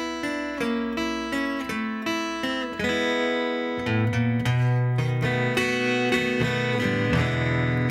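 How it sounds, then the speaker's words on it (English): An acoustic or electric blues guitar plays a turnaround lick in E over an E5, A5 and B5 jam progression: quick picked notes at first, then ringing chords that resolve, clear and unaccompanied by talk. "The lick will sound like this."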